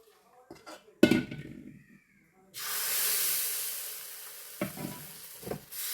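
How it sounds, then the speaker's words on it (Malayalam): Wheat palappam batter poured into a hot pan, a sudden broad sizzle and hiss that swells and holds steadily close by, with a few brief knocks and clatters before and after. "ഇനി മാവ് ഒഴിച്ചു കൊടുക്കാം."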